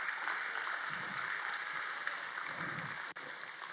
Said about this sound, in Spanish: denle un aplauso a Jesucristo